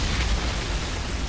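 The Fire Witch's Eruption skill in Outriders sets off a dense, roaring fiery blast, a loud, sustained rumbling burst heard up close with no talk.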